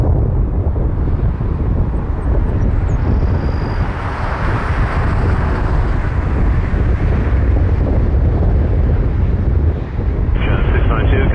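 Airplane taxiing at Toronto Pearson airport, a broad steady engine roar heard from a distance, mixed with wind noise on the microphone, with a higher tone rising near the end.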